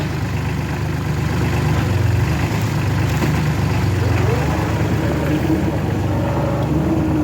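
The engine of a grapple machine handling a 13-foot log idles at a low, steady rumble, with a few small shifts in pitch toward the end.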